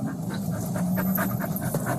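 A dog pants steadily and rapidly at close range, a continuous breathy rhythm with no talking over it.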